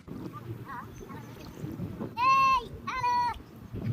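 A boat on a river pleasure trip churns along with a steady low rumble of water and motion. Twice, short high-pitched tonal voices ring out clearly above it.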